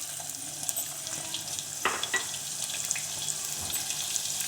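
Onions added to a hot cumin tadka fry with a steady soft sizzle, broad and even, with a couple of brief clatters partway through.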